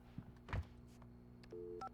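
A short series of electronic telephone dial tones in the Alan Wake video game beeps after a couple of soft knocks, the steady tones holding briefly near the end.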